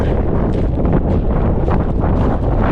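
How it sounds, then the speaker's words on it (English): Strong, steady wind roars and buffets the microphone without a break on a cold mountaintop, a dense rushing noise with gusty surges throughout. "But it's super windy, super cold. The wind is like ice."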